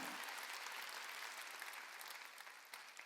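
A church congregation at a Wednesday worship service in Korea bursts into loud, dense applause giving glory to God, a full continuous roar of clapping that fades slightly near the end.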